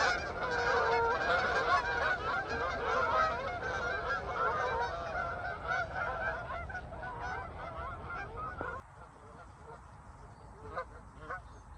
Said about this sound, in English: About 1 million geese have just landed in my swim.